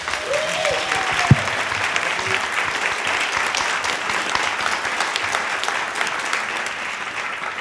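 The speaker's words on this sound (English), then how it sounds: "So first, let's clap up John Dephouse." An audience claps for a speaker at a morning gathering, a steady, full round of applause lasting several seconds that holds even throughout with no talk over it.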